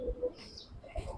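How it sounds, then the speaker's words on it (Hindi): A kalsira pigeon, a domestic fancy breed, gives soft, low cooing close by, with two brief throaty pulses separated by a short pause against a quiet background. "मगर हम कलसिरा कबूतर बोलते हैं इसे।"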